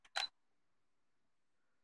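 A Canon EOS 60D DSLR fires its shutter once, a quick sharp mechanical clack near the start, then silence.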